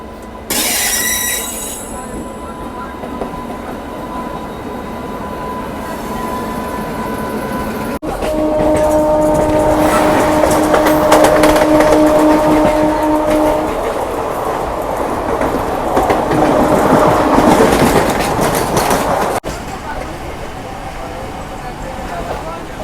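An Indian local train running fast on its rails, a loud steady rumble with wheel squeal and tonal whines that swell mid-journey, with some talk in the background.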